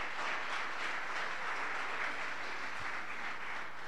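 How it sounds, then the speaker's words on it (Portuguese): A church congregation claps steadily in a dense, even wash of applause, moderately loud and continuous throughout. "Mais uma salva de palmas a ele."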